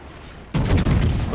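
Battleship guns fire in the naval video game World of Warships, with a sudden, loud booming salvo that breaks out of quiet and then rumbles on.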